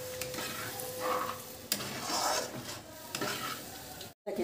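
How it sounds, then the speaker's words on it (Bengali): Water poured into a pan of frying egg curry, bringing a loud, close sizzle and bubbling hiss along with stirring scrapes, swelling in several bursts before a brief cutoff near the end. "এবার আমি জলটা দিয়ে দেবো।"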